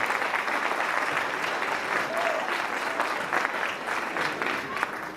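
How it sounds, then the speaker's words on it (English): Audience applause at a newspaper's year-end party, steady dense clapping from a sizable crowd with faint voices underneath, continuing evenly throughout. "So round of applause please for that."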